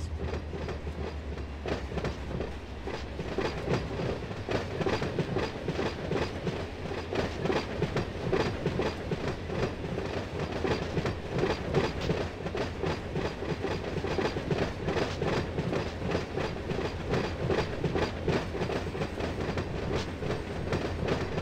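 Railroad cars roll steadily in a train simulator video game, with a continuous rumble and rhythmic clickety-clack of wheels over rail joints throughout, fairly loud and uninterrupted.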